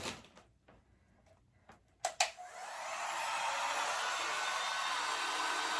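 A heat tool starts with a click and then blows a steady, loud, even hiss of air while it warms the top of a soy wax candle set in a cereal bowl.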